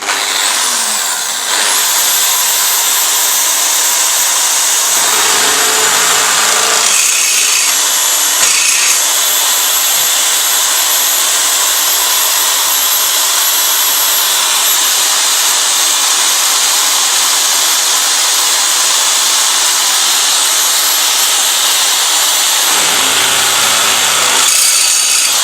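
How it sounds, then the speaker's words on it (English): A power drill bores bigger holes through long aluminum square pipes, a loud, steady high-pitched whine that runs almost continuously with two brief pauses. "now we're drilling the same bigger holes but on the longer pieces"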